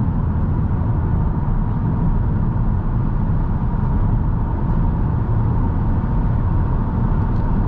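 Cabin of a 2021 Toyota Camry XSE V6 accelerating through a corner, a steady, loud, low engine and road drone that holds evenly throughout with no talking.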